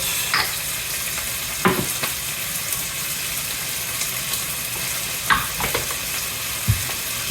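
Seasoned Roman tripe with onions sizzling loudly in a pan while being stirred, steady frying hiss punctuated by several scraping clatters of the utensil against the pan.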